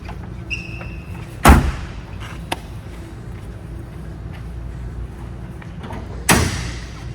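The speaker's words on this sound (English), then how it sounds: "Let's open up the hood." The hood of a 1965 Ford Mustang Fastback K-Code with a 289 engine being opened, two sharp metallic clunks of the latch and lid several seconds apart, close and loud against a quiet room.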